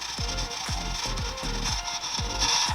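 A Scrub Daddy sponge with The Pink Stuff scrubs the inside of a very greasy oven in quick repeated strokes, close and fairly quiet, with no voices.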